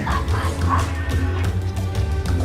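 Playful puppies yip, whimper and bark nonstop while they bite and wrestle each other, close and loud, with their high calls overlapping densely.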